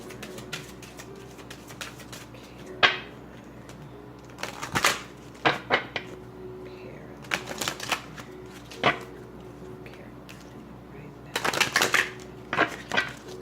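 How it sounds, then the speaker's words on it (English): Reading cards are shuffled in short bursts of crisp riffling and slapping, several separate flurries spread across the clip over a steady low room hum, with no talk. "maybe that means to stop shuffling"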